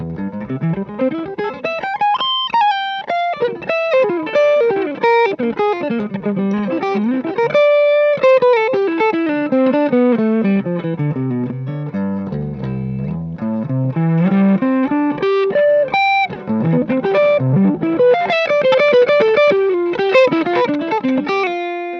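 An overdriven electric guitar plays a continuous melodic line with gliding bends and sustained notes, mildly gritty and fairly loud, with no one talking.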